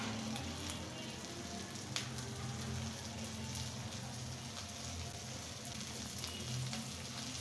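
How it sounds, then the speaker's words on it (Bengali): Prawns sizzling in hot oil in a pan after being added to a lightly fried base for a mashed prawn bhorta; a steady, dense crackling hiss runs throughout, close and even, with no talking. "আমি এখন এর ভিতরে চিংড়ি মাছগুলো অ্যাড করে"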